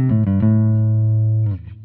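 An Aguda Resist 6NT Black electric guitar plays a clean tone with its active circuit switched off: a few quick plucked notes, then one note held loud and close for over a second before it cuts off into faint noise.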